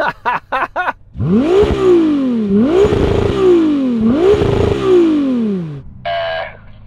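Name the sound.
Ferrari 296 GTB engine revving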